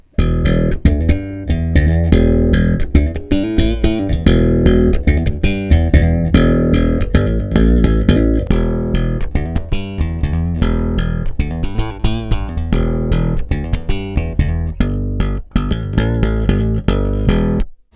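Bass guitar through a Radial Bassbone OD preamp with mids scooped, bass boosted and extra top end, playing a busy, punchy riff of quick percussive notes, loud and close with no voices.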